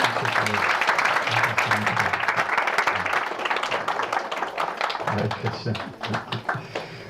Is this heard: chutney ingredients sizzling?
no